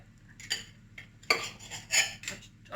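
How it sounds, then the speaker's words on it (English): Knife cutting cooked curried sausages into pieces on a plate or board, giving a few separate scraping, clinking cuts spaced about half a second apart, close and fairly quiet, with no talking. "cut them in half and then cut each of those into 3"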